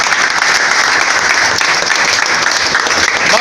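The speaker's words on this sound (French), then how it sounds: "Il faut applaudir." A church congregation claps loudly and steadily during a prophet's service, dense continuous applause close by with no voices over it.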